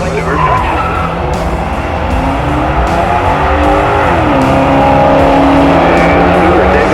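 Mustang and Camaro race cars roar around a track at speed, engines droning loudly with shifting pitch as they pass, tires skidding and squealing throughout, under excited commentary.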